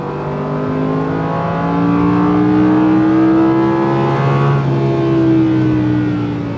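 Audi R8 V10 engine revving with a muffled, subdued exhaust note, a steady harmonic drone that swells in the middle and rises and falls in pitch, loud and close with no talk.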